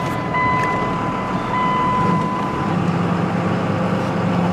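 An old Dodge pickup's Cummins diesel engine runs steadily from inside the cab on the way to a hay field, a continuous low rumble with a faint whine, holding an even level throughout.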